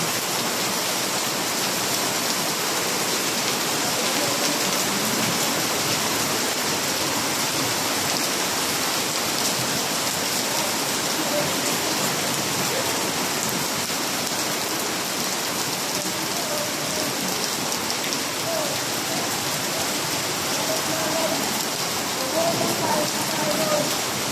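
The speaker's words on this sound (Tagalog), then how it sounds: "Tagal tumila ang ulan." Heavy rain pours down continuously, a dense, even roar of drops hitting surfaces with no letup.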